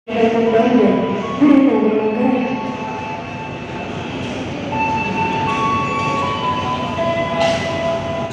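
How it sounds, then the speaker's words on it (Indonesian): The locomotive of the Gaya Baru Malam Selatan train idles at a station platform on track 1, giving off a loud, continuous engine drone and hum. A person talks over the engine noise. "saat ini saya sedang berada di depan lokomotif KA Gaya Baru Malam Selatan yang berada di jalur 1"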